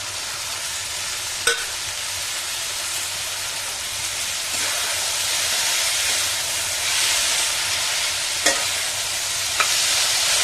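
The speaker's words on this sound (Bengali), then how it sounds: "পেঁয়াজটা মোটামুটি ভাজা হয়ে গেছে এবার টমেটো কিছুটা দিয়ে দেবো" Onions and tomato fry in a pan with a little oil, a continuous crackling sizzle and steamy hiss broken by a few sharp scrapes and clacks of a spatula as it is stirred, with no speech.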